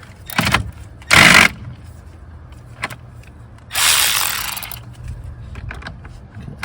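A wrench works a rusty, heavily corroded nut on a car battery terminal cable: separate metallic clicks and ratcheting bursts, one sharp and loud, another longer and scraping, with quiet gaps between them, close and without talk.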